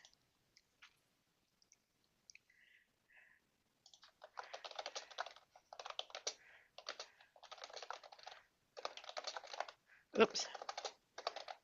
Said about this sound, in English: I gotta type a description